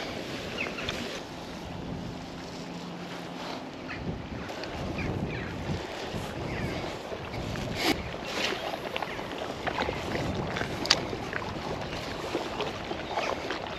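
Steady wind roaring across the microphone beside a canal over the wash of wind-driven waves, a constant rough rush that never lets up, with no talking.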